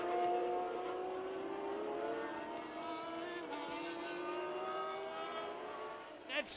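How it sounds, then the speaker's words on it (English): Formula One cars at the 1981 Brazilian Grand Prix, engines whining at high revs in a steady, fairly faint drone with shifting pitch, ending in a short burst of noise. "That's Piquet. Piquet spinning."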